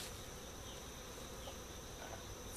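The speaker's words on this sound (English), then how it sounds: "Whole lot of bees, holy cow." Honey bees pour from an opened hive box during hive combining, a dense steady swarm buzz, close and continuous with no pauses and no talking.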